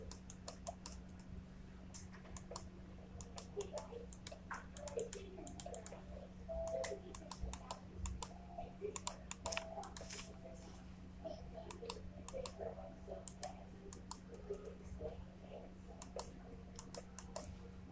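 Steady computer keyboard typing, fast irregular key clicks over a constant low electrical hum, fairly quiet and close, with no talking.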